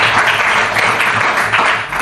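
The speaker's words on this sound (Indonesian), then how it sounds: "Kita beri aplaus untuk Farel." An audience in a school coaching and academic supervision session applauds a participant, a dense, even wash of clapping that holds loud and steady throughout.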